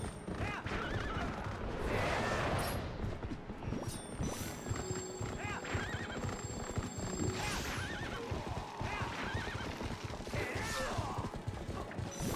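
Horse riding in the video game The Legend of Zelda: Twilight Princess, a loud whinny and steady clip-clop hoofbeats over dense game music and effects, no talk.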